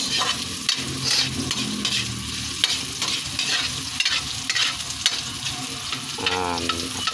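Onion frying in a pan with ginger for chicken tinola, a steady close sizzle with stirring scrapes and clatter, and a brief voice near the end.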